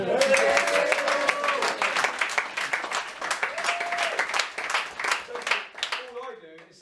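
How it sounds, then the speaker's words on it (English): A round of applause for Judy at the Lancing Eagles awards night 2023, crowd clapping heard under a voice talking over it, tapering off at the close. "we definitely need another round of applause for Judy"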